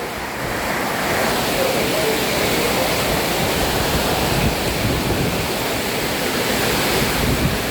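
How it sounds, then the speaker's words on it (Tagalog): Loud, constant roar of strong wind mixed with heavy rain from a storm in Kota Kinabalu, Sabah, Malaysia, a dense rushing noise that fills the whole clip without pause. "Grabe, lakas ng hangin at ulan."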